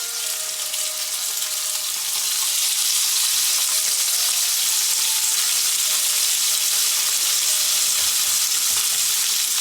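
Loud, continuous sizzling and crackling of chicken breast frying in hot olive oil, steady throughout with no talking.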